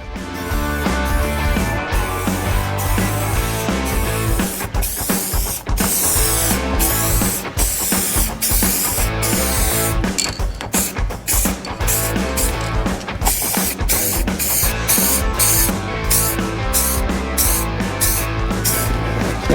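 Spray gun misting a light paint coat onto a damaged car bumper during a touch-up, with repeated short hissing bursts and brief pauses in a steady, close rhythm.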